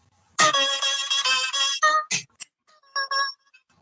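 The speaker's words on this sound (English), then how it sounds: "That is the theme to Tecmo Bowl." A phone ringtone plays the Tecmo Bowl video game theme as a short, bright electronic melody in quick bursts of notes, loud and alone against silence for a few seconds.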